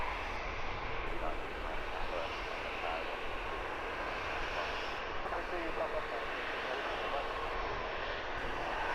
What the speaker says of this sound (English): This one an A320-200.